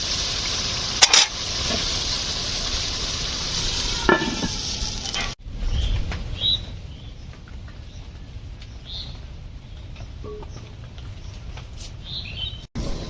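Duck curry simmers in a pan with a little added water, a steady bubbling sizzle with a few sharp clinks of a lid or utensil, then a softer, muffled simmer once covered.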